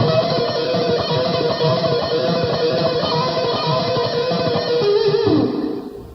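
Distorted electric guitar rips through a fast barred hammer-on and pull-off rock lick, a dense, continuous blur of notes that fades out at the end, loud and up close with no voice.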